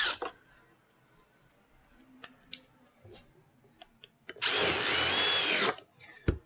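A power drill drives screws into the wood panels of a DIY raised garden bed: scattered clicks and handling knocks, then one loud, close whir lasting about a second and a half, with the motor rising and then cutting off.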